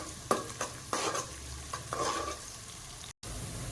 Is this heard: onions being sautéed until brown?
yes